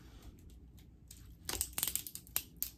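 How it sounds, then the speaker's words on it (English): Paper is moved and rustled aside at close range, quiet at first, then a burst of crinkling and crackling handling with sharp rustles. "Oh, sorry for the noise. I'm trying to move all the paper out the way."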